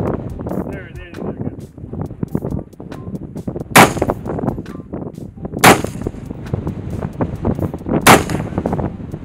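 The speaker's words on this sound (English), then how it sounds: "Select fire means a gun can transition from semi-automatic fire to automatic fire" A select-fire rifle shooting single semi-automatic shots outdoors: three loud, sharp cracks a couple of seconds apart, with wind buffeting the microphone and a voice talking throughout.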